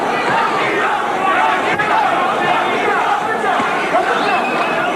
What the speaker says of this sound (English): The crowd is shouting Mexico.